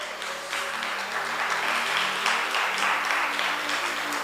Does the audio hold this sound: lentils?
no